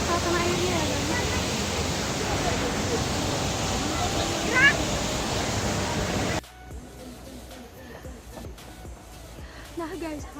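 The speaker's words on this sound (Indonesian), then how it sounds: "sekarang udah sampai di air terjunnya" Rushing roar of the Sikulikap waterfall, a steady broadband wash of falling water close by that drops away abruptly partway through, leaving quieter forest ambience.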